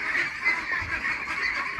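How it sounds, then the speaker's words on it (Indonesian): Meat ducks on a farm honk and quack continuously in a dense, noisy flock chorus that stays close and steady throughout, with no talking over it. "suaranya agak berisik ya bebek berdaging ini"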